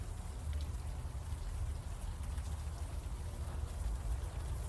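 Warm rain falls steadily in the video game Unavowed, a dense, even patter with a low rumbling wash underneath, soft and continuous throughout with no voices.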